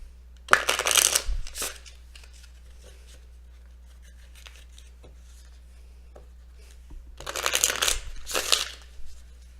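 Two short bursts of tarot cards being shuffled up close, one near the start and one near the end, with quiet in between.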